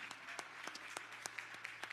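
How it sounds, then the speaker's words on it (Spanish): Church congregation giving applause, scattered individual hand claps in an uneven rhythm, quiet and somewhat distant, with a low hum underneath. "¿Por qué no le damos un fuerte aplauso al Señor?"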